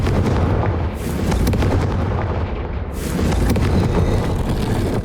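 Confringo fire blasts in Hogwarts Legacy go off in a dark corridor, loud crackling booms, a burst near the start and another about two seconds later, over a continuous rumbling roar.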